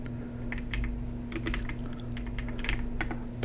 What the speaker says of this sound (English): Let me know if you like how it sounds more than my other keyboard.